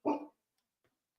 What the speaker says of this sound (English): Sorry, my dog just started barking.